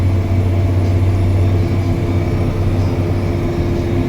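Loaded 140,000 lb Super B semi truck engine pushing in tenth gear on a steep 8% downhill grade in the Canadian Rockies, a steady loud low drone heard from the cab without talk.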